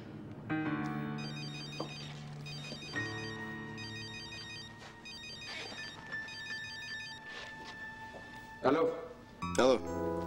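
A telephone rings in repeated electronic bursts, a fairly quiet tone sounding several times in a row with other sounds in between, ending with a brief louder noise.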